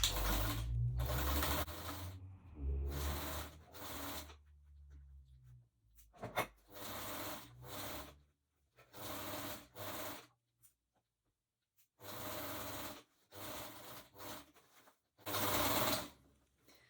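A sewing machine stitches the seam of a fabric drawstring bag in close, steady bursts of running, broken by short pauses and a quieter stretch, with no talking.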